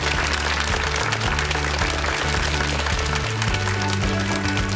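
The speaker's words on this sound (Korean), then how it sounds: "그 아버지한테 박수 한번 보내주고 싶어요." A studio audience on a Korean TV health talk show gives loud, continuous applause over an accompanying music bed with a pulsing bass line.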